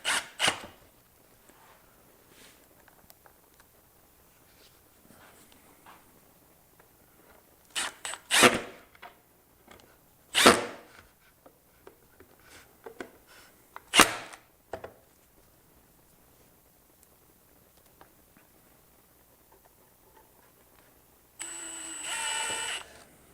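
Screws driven into very soft wood while building a small lantern, heard as several short, loud bursts of a driver spaced a few seconds apart, with a longer steady buzz near the end.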